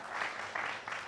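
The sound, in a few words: applause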